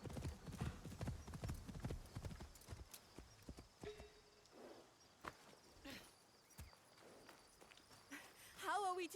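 Hoofbeats of a galloping horse in Assassin's Creed Shadows pound loud and rhythmic for the first few seconds, then thin out to scattered, fainter clops among other game sounds. A rising, whinny-like cry comes right at the end.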